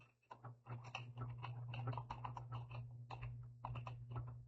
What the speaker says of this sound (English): We're going to type patient name.